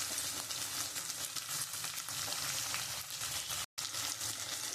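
Fish oil sizzles in a pan with lightly fried onions, a dense continuous hiss that fills the clip with a brief cut near the end, no talking.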